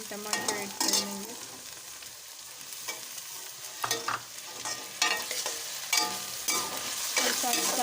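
Okra fries in a pan with tomatoes being added for a masala bhindi fry: a constant close sizzle under repeated bursts of spatula scraping and stirring against the pan.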